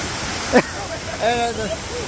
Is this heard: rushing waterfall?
yes